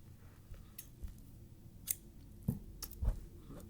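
Scissors snip through fabric for a square purse, a handful of quiet, sharp cuts spaced irregularly over a few seconds in an otherwise hushed room.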